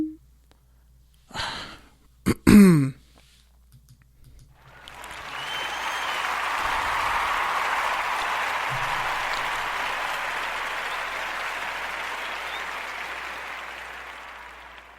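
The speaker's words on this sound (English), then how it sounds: "That round of applause wasn't just because we went to college together" Audience applause at a Los Angeles community conversation event swells up after a few brief breathy sounds and sustains as a steady, broad wash of clapping for the rest of the clip.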